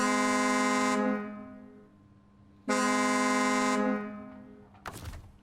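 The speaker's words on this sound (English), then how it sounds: "I'm gonna let you guys listen to the Tatra and the Pacific back to back, horn wise." Tatra truck horn in the video game SnowRunner sounds two long, loud, buzzy blasts separated by a short pause, each fading out after release, followed by a brief clatter.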